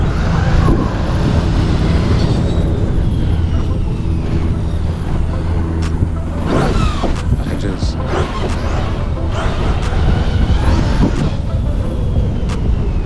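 A Redcat Vigilante RC car is driven off road at full throttle, its electric motor whining steadily under loud, continuous rattling and crunching from the terrain, with a few sharp knocks from bumps near the end.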